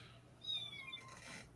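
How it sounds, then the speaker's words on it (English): A house cat meows softly in the background of a fantasy football livestream, one or two faint, high drawn-out cries over a low room hum, with no talking. "What, is that a cat?"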